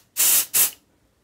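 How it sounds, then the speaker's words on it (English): Two quick bursts of aerosol test spray onto a smoke detector on a Gent Vigilon fire alarm system, the first longer than the second, loud and close with a bright hissing rush, then silence. "I'm just going to give it a quick spray."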